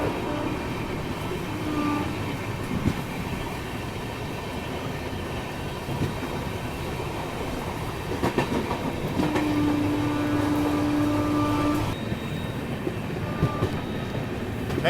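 The ShivGanga Express rushes through Sahibabad at speed, a continuous loud rumble and rattle of wheels on track heard from aboard, with clattering rhythm and a brief steady whine partway through.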